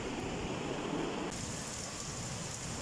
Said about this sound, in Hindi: बारिश फुल ज़ोर से हो रही है, फुल ज़ोर शोर से बारिश हो रही है।